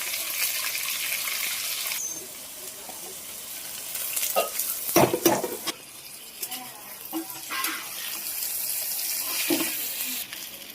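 Gobindobhog rice stirred and fried in a pot with bay leaf and whole garam masala for pulao, a steady sizzle broken by several sharp scraping stirs in the middle.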